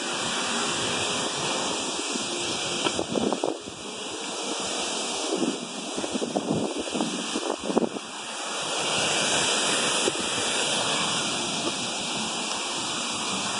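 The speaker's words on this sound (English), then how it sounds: "The waterfall right there." Rushing water from a waterfall at a sightseeing spot in Chattanooga, a steady broadband roar heard from nearby with no talk over it, with a few brief bursts of wind noise along the way.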